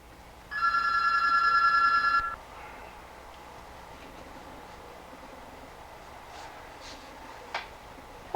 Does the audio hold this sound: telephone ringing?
yes